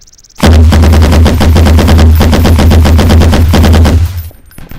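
A pill gun in a video game fires a rapid, loud automatic burst of closely spaced shots lasting a few seconds, then cuts off abruptly.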